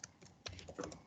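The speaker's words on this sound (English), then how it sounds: "Let me type it here." Several quick keystrokes tapped on a computer keyboard, close and fairly quiet, in short irregular bursts with no talk.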